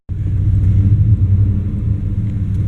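An old junk truck engine idles roughly with a low, uneven rumble and shaky pulsing, running continuously and loud up close as it struggles on low battery voltage.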